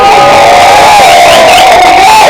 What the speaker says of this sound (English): Can I have a round of applause for everybody?